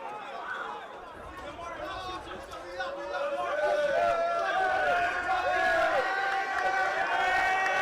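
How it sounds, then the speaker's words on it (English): Spectators at a boys high school soccer match between Central and Memorial, with a crowd's mixed shouting, whistling and chatter swelling louder partway through, while a commentator talks over the noise. "Crowd getting a little rowdy"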